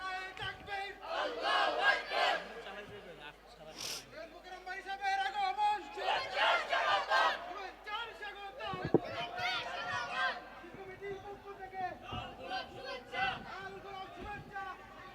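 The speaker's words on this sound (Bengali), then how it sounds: "তাকবীর দেন, তাকবীর দেন।" A crowd at a religious gathering chanting takbir (Allahu Akbar) in loud, ragged bursts of many voices, close and echoing, with a leader's calls and murmuring between the swells.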